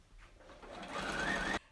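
A sewing machine stitching quilt strips together runs in a quiet steady whir for about a second and a half, then stops abruptly.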